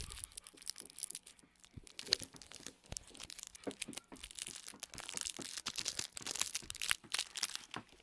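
Packet of Smarties candy being torn open, close crinkling and crackling of wrapper with irregular sharp tears and rustles throughout.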